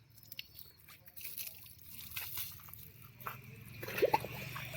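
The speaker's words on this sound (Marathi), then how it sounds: "इकडे एक जण पाणी टाकतोय आणून" Water is poured and sloshes over a bull being washed for the Bail Pola festival in Sangvi village, heard as soft, uneven splashes and drips that grow busier toward the end, with faint voices in the background.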